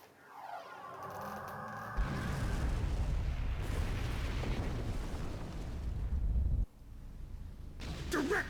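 A photon torpedo strikes a ship in Star Trek Online, setting off a sustained roaring explosion that swells and rumbles for several seconds before cutting off abruptly, followed by further game noise.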